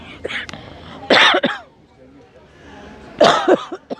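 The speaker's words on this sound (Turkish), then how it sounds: "Öksürük geldi." Two harsh coughing bursts, each a quick cluster of rough hacks, break through a quiet room, separated by a pause with soft breathing and murmuring.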